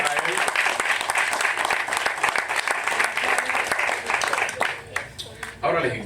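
Sustained applause from a church congregation at a pastor's ministerial promotion service, dense and steady for several seconds before thinning into scattered claps near the end.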